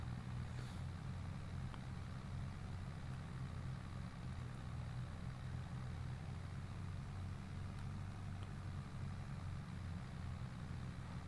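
A tractor in Farming Simulator 22 hauls a heavy water tank, its engine a steady, low, moderately quiet drone that holds unchanged throughout with no talking.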